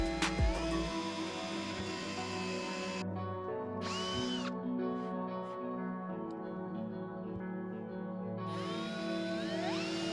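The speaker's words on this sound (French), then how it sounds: "maintenant je vais venir le visser à ma structure en tasseau qui se trouve dessous" A power drill driving screws through floor panels into wooden battens, with several short whining bursts separated by pauses over a quiet background hum.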